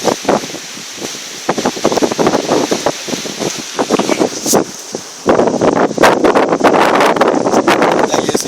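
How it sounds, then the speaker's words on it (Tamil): Strong wind on Sathuragiri mountain buffets the microphone in gusts, roaring louder in the second half, with a voice briefly audible beneath the rushing air. "காற்று அடிக்கிற அடியில் நம்மள ஆளை தூக்குறாப்புல இருக்குது"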